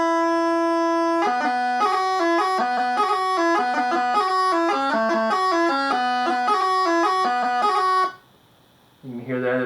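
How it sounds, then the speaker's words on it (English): Highland bagpipes play a short run of the tune Patty's Leaded Britches, with quick grace notes breaking up the melody over a steady drone. The playing is loud and continuous for about eight seconds, then stops, and a brief burst of sound follows. "if I were to play a little bit of a song called Patty's Leaded Britches, it would sound normally like this."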